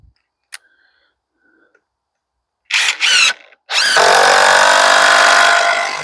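A power driver sends ledger lock screws into a hard oak beam. After a couple of faint clicks, the motor whirs in two short bursts and then runs one long, loud, close whine as the screw drives in.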